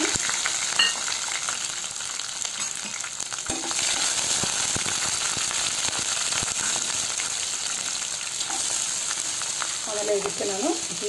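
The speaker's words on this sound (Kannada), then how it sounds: "ಜೀರಿಗೆ ಹಾಕಿದ್ಮೇಲೆ ಹಸಿಮೆಣಸಿನ್ಕಾಯಿ ಹಾಕಿದ್ದೀನಿ." Cumin seeds and green chilies fry in a pan for a ridge gourd milk curry, giving a steady close sizzle and crackle with occasional stirring scrapes throughout.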